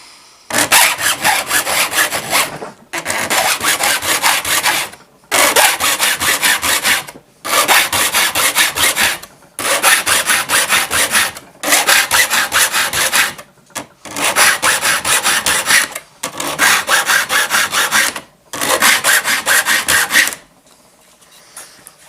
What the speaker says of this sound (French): garder la même pression, toujours la même pression sur la lime et le même angle